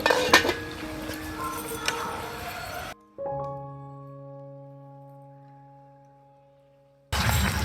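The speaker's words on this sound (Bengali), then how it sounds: "এবার ঢাকাটা খুলে দিচ্ছি।" A lid is lifted off a pot of chicken curry with a metallic clank, ringing out in a long fading tone after busy clatter of utensils, before more clinking resumes.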